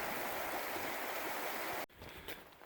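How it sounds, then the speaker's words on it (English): Creek water near a creek crossing on a Lower Rock Creek hike rushes in a soft, steady hiss that fades and muffles partway through. "just a little ways up from the creek crossing, which if you listen you can still hear it"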